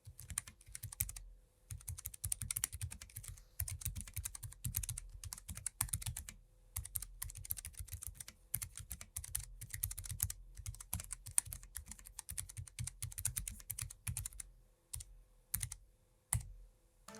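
Steady, close typing on a computer keyboard, rapid clacky keystrokes in bursts with a few short pauses, no voices.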